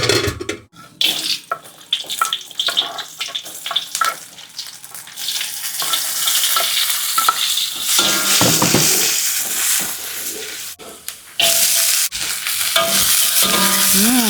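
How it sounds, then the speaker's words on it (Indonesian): Garlic and chili stir-fry in a pan, a loud continuous sizzle with scraping and stirring clatter from a utensil, close up and steady, with brief pauses where the frying noise drops out. "Pertama-tama tumis bawang siung dulu ya, ini pakai cabai."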